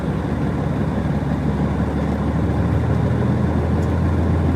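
A pickup truck engine idles with a steady, low, even rumble that holds at one level throughout, with no voices over it.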